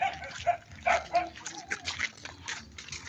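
Dogs give several short yips and whimpering barks over rustling and splashing water, moderately close with irregular timing.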